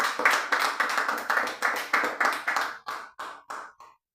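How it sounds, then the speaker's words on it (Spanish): A church congregation claps together in a steady, rhythmic unison beat, loud and close, with each clap sharply defined before the clapping thins out and stops near the end. "Dale un fuerte aplauso al Señor"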